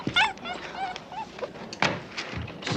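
A dog whimpers and cries indoors in a house, short whiny bursts mixed with people talking and a door thud.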